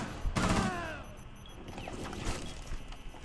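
Video game gunfire: a loud rapid burst of shots up front, followed by scattered fainter shots and crashes.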